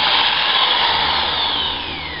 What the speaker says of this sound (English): And drill completely through the product.